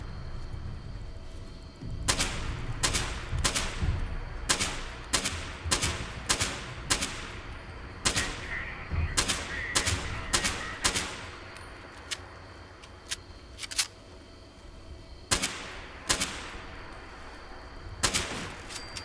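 In the video game Fallout 76, a long string of sharp gunshots rings out, some single and some in rapid bursts, separated by short pauses and set against faint background ambience.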